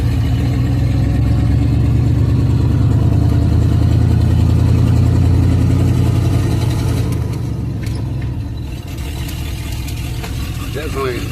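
A cold carbureted car engine with a flat spot in the carburetor runs at a steady low rumbling idle, loud and close, with engine noise dipping slightly toward the end.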